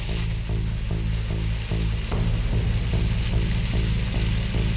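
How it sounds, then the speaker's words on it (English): A stuck truck's engine revs repeatedly while its wheels dig in on a rough track in the Brindabella Ranges, pulsing throbs rising and falling close by. "Too much revs, Cole. Slow down."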